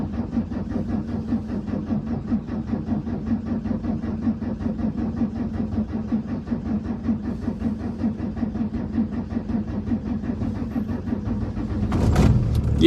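A warm Volvo 850 2.5 20v wagon engine cranks on and on, a rapid, rhythmic churning of the starter that goes on at a steady pace before the engine finally catches with a sudden louder surge at the end.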